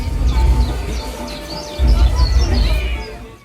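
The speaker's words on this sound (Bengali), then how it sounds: "প্যান্ডেলটির মধ্যে চলতে চলতে বারবার করেই কানে ভেসে আসছে পাখির মিষ্টি কুজন।" Birds chirping inside a Jagaddhatri puja pandal in Krishnanagar, bright repeated tweets and short calls over a low crowd and ambient rumble, with some people talking in the background.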